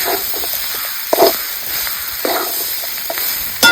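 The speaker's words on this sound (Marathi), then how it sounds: "मस्त अशी ही भाजी आपली परतून झालेली." Dry ghevda bean bhaji is stir-fried in a kadai, giving a soft continuous sizzle with a few scraping knocks of the spatula. No one speaks.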